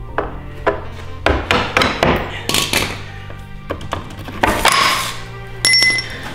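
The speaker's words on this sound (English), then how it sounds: "Tap the bolt out." Rubber mallet tapping a bolt out of a RollerSki roller ski mount, a series of close, dull knocks at an uneven pace with a few sharper clinks, heard alone.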